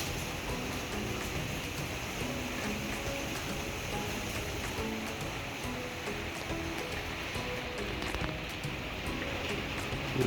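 Steady rain falls in Lahore in early March, an even, dense hiss of drops on surfaces that holds constant throughout, close and moderately loud, with no voices.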